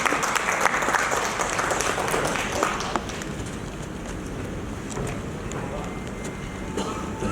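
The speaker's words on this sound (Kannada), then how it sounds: "ಜೋರಾಗಿ ಚಪ್ಪಾಳೆ ಮೂಲಕ ಪ್ಲೀಸ್ ಬನ್ನಿ ಸರ್" Loud audience applause at a press meet for the film Yajamana, a dense burst of clapping that eases after a few seconds into a steadier, softer clapping.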